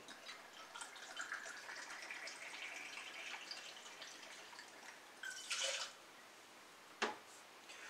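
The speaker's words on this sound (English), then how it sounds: "we're going to start with 2 ounces of your vodka" Vodka poured for a pear martini, a faint, steady liquid trickle running for several seconds with a brief louder splash near the end and a sharp clink just after, quiet room, no talk.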